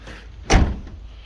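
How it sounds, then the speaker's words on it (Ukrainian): A single soft thud of a Volkswagen T6 cargo van's sliding door soft-closing shut, brief and close, with a faint mechanical hum around it. "Є дотяжечка відсувної двері."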